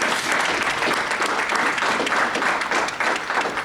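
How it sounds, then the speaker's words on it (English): Loud, dense applause from an audience at an annual membership meeting, sustained steadily throughout without breaks. "Give her a round of applause, please."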